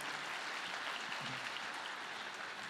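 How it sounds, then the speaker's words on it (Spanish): Church congregation clapping during a Spanish-language service, steady sustained applause heard from a distance at moderate volume with no speech over it. "Dale un fuerte aplauso al Señor."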